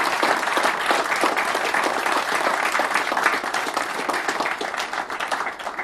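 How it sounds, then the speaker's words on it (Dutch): A crowd at an award ceremony, where someone is being appointed to the Order of Orange-Nassau, bursts into loud, sustained applause, a dense wash of clapping that holds steady and begins to thin slightly near the end. "En dat verdient een applaus,"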